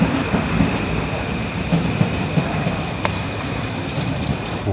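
A metro train rumbles steadily and loudly as part of a film soundtrack, with continuous rail noise, occasional faint clicks and a thin high whine held throughout a tracking shot heading inside the metro.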